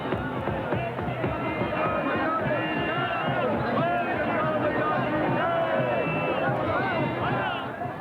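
Huge crowd at the 1989 Kumbh Mela lining a procession route, a steady close babble of many voices with shouts and calls rising over the hubbub, a narrator talking over it.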